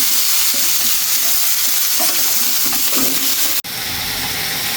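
Fish and cauliflower curry sautés in a hot pan with a loud, dense, continuous sizzle. Faint stirring is heard under it, and the sound drops out for a moment before returning.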